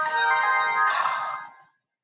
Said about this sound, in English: I should have turned my phone to silent